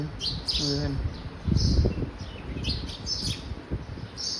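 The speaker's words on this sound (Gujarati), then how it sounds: "આ બાજુ ચકલી જો કલબલ કરે છે" Several house sparrows chirp and tweet in quick bursts, with background rustling and a brief low murmur.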